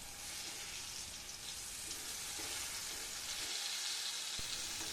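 Constant crackling sizzle of eggplant frying in a pan, even and close, with a faint clink near the end.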